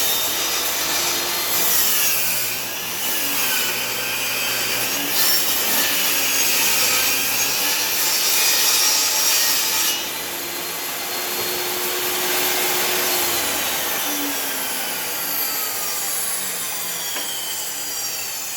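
A power saw cuts through a piece of firewood being shaped into a birdhouse, a loud, continuous close-up whine and grind that eases briefly partway through before resuming.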